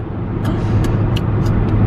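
A car drives along a road with a loud, steady low engine and road rumble from inside, broken by a few short ticking or clicking sounds.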